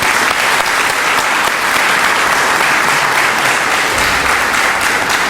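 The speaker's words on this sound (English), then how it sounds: "please give yourselves a round of applause" Loud, sustained applause from a large audience at a talk, a thick unbroken roar of many hands clapping that holds steady throughout.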